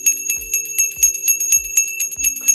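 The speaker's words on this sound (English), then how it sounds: "Have you missed ringing the bell, Dave?" A bell rung repeatedly in quick, regular strikes, each a bright metallic ding with a lingering ring, close and clear with a soft thump under some hits.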